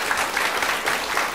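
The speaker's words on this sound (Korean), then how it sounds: "하나님께 감사의 박수를 드리겠습니다." A church congregation claps together in a dense, steady burst of applause, loud and close, filling the whole moment with no voices on top.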